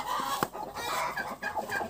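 A broody Cochin hen clucking and squawking in agitation while being caught, close and loud, with short harsh calls and rapid cackles over rustling.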